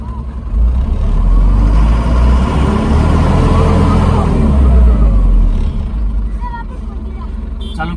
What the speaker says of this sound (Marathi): चालू केली मित्रांनो गाडी।